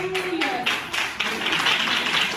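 A church congregation claps in praise during a Portuguese-language service, striking together in an even, rhythmic beat of close, bright claps. A voice sounds faintly beneath the clapping throughout.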